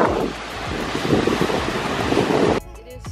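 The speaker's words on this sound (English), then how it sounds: "It is super windy, so that's why I'm facing this way first." Strong wind buffets the microphone at a partly frozen lakeshore, a loud, rushing roar with surf-like gusts that drops off suddenly near the end.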